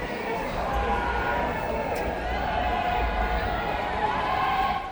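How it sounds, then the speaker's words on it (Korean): Cheering and shouting from people running toward a cruise ship, a steady dense crowd roar of mingled voices that holds at an even level throughout, with no single voice standing out. "너나 할 것 없이 응원하고 함성 지르며 뛰어오시는 분들조차도"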